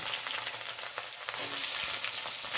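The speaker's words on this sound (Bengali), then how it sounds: "আমি এবার সব সবজিগুলো তেলের মধ্যে ছেড়ে দিচ্ছি" Vegetables dropped into hot oil already tempered with cumin seeds, a bay leaf and a dried red chilli, sizzling and crackling steadily up close with light stirring scrapes.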